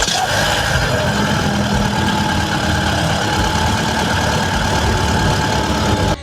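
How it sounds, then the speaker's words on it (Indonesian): Toyota Harrier 2014 with a 2.0 engine and automatic transmission, idling steadily: a loud, close, even rumble holds throughout, with no voices over it. "Mobil ini matic, jadi injak rem dulu baru kita nyalakan."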